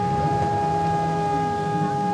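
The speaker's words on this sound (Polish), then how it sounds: "tradycyjnie zawyły syreny" Air raid sirens wail across Warsaw at 5 p.m. on the anniversary of the Warsaw Uprising, a steady, sustained tonal drone that holds unbroken throughout.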